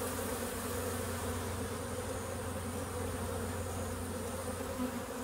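Many bees buzz in a constant, dense drone, close and steady throughout with no pauses.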